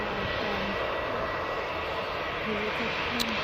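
An Airbus A320 airliner's engines drone steadily as it lines up on runway 07 at Newcastle Airport, heard from a distance as a continuous broadband roar with faint background voices.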